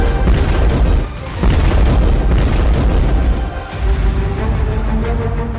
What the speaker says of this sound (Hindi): कर्च ब्रिज पर धमाके में यूक्रेन का नाम आया